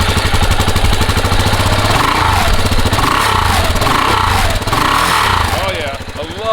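A KTM 690 Enduro R single-cylinder Rotax engine chugs with a rapid, loud thumping pulse, settling into a steady idle close by; a voice talks over it briefly.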